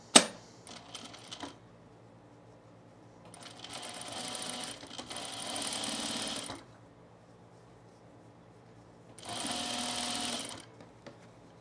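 A sewing machine stitches a men's shirt in two sustained bursts of rapid mechanical whirring, separated by quiet pauses and a few sharp clicks at the start.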